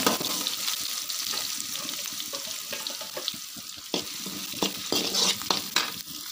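Onions sauté in a pan for a valathandu kootu with a constant near sizzle and crackle, broken by scraping stirs and light clatter toward the end; no one speaks.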